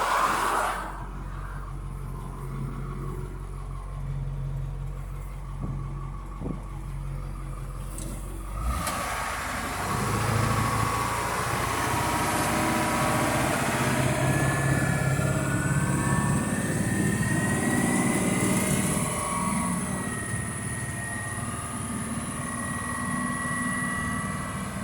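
An old bucket truck engine drives steadily, low rumble building after a quieter start with a sharp shift near nine seconds, then a continuous rising drone as it gets underway, no talking.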